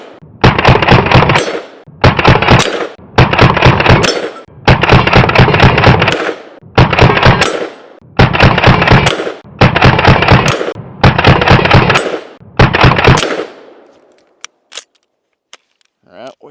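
Full-size H&K MP5 fired in about nine loud, sharp bursts of rapid automatic shots, each lasting about a second, with short silences between them and a few faint clicks afterward.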